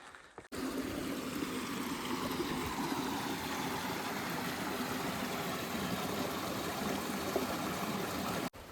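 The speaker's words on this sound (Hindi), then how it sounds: "बहते हुए पानी की आवाज़" Steady broadband rush of flowing water in a forest in far-western Nepal, continuous and fairly loud throughout, with a low rumbling undertone and no voices.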